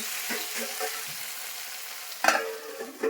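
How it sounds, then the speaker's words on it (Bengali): Mustard-poppy spice paste with green chili being stirred in a pan, a steady soft sizzle with scraping strokes and a sharper clatter of the spatula near the end. "এখন মশলা দিচ্ছি এর মধ্যে সর্ষা পোস্ত কাঁচা লঙ্কা আছে নেড়ে চেড়ে একটু ঢেকে দিব"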